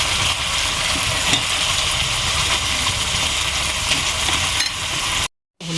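Chicken pieces fry in oil with cooked-down spices, giving a loud, steady, close sizzle that runs throughout and cuts out briefly near the end. No one speaks.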